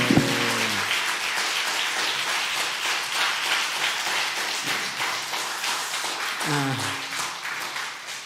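A church congregation claps together in a sustained, even patter of applause, with brief voices rising at the start and again near the end.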